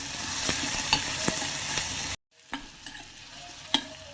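Onions frying with a little salt in a pan for a grated mango pickle, a steady close sizzle with sharp spoon knocks against the pan, broken by a brief silence before the frying resumes more softly.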